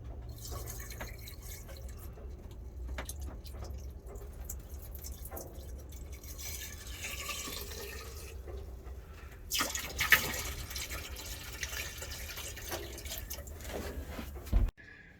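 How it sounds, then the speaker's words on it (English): Antifreeze pours and drips into bilge water aboard a boat, a quiet trickling with scattered drips and a few louder splashes toward the end. "I'm just going to pour a little bit of antifreeze in that"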